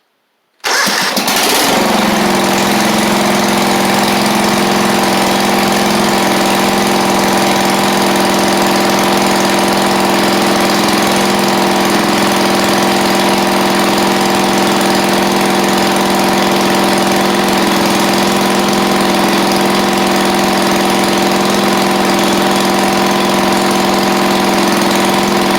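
A John Deere LX176 lawn tractor engine cranks and catches near the start, then idles steadily and loudly for the rest of the clip with a constant drone and no talk.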